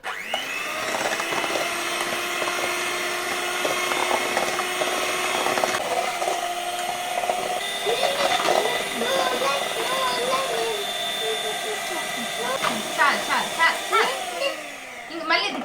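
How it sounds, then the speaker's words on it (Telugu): An electric beater whirs continuously through sponge cake batter with oil and milk, a loud steady motor hum with shifting pitch and rattling against the bowl, while a voice talks over it. "ఒక నిమిషం పాటు అయితే బీట్ చేసేసుకుందాం"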